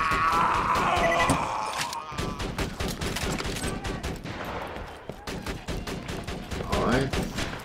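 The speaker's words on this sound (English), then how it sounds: "the turret is still shooting on something" Turret gunfire from the Borderlands 2 video game, rapid bursts of shots cracking steadily throughout, loud and close with other game sounds mixed in.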